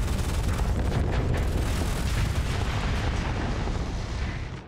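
A big gun firing in the Starsector space combat game produces a sustained, loud, rumbling roar of blasts. It holds steady for most of the stretch and then fades near the end, with no talk over it.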